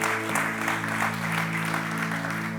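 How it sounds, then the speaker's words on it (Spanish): A church congregation applauding together during a Spanish-language sermon, dense steady clapping from a crowd filling the room, with a sustained tone and faint murmuring underneath. "Den un aplauso al Señor."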